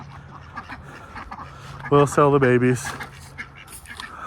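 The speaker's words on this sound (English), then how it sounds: "is listening to the ducks quack" Ducks on a small Utah farm give a short burst of several loud, close quacks in quick succession amid background noise, with a person talking before it.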